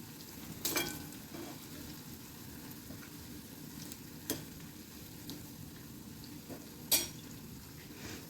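Moong dal vadas fry in hot oil, a soft continuous sizzle and bubbling with a few sharp clinks of a utensil against the pan scattered over it.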